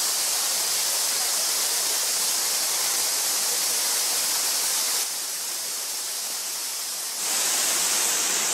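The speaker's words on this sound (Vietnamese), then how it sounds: "Ở đây thì nghe tiếng thác ào ào ở bên kia rồi" A waterfall on Prenn Pass in Da Lat roars as a dense, steady wash of rushing water, loud and unbroken, with a brief dip in level partway through.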